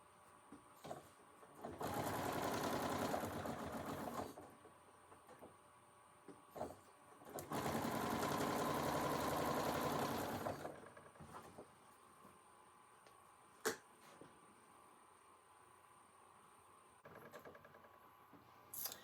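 A sewing machine stitches a quilt block in two sustained whirring runs of a few seconds each, separated by pauses with small clicks and handling noises.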